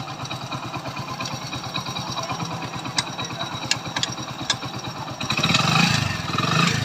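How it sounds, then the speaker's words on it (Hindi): A motorcycle engine, newly refitted, idles with a rapid, even thumping pulse, a few metallic ticks, then a brief louder rev at the end. "अब आप साउंड देखें इंजन की"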